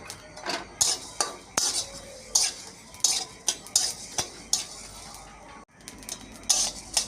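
A spoon stirs dry-roasted coriander and cumin in a pan, scraping and clinking against the metal in an irregular rhythm of sharp, close strokes with a faint sizzle beneath and no talking.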